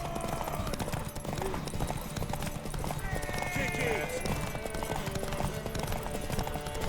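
Rapid horse hoofbeats clatter steadily under a busy mix of Witcher 3: Wild Hunt game sounds, with voices speaking and shouting over the galloping rhythm.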